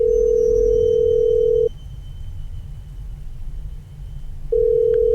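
An unanswered phone call from a video game rings out as steady electronic ringback tones, one long tone at the start and another near the end with a quiet pause between, alone with no talking.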